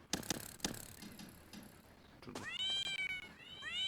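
A cartoonish cat meows several times in quick succession in the video game 3 Pandas in Brazil, bright rising cries over light game sound effects and clicks, fairly close.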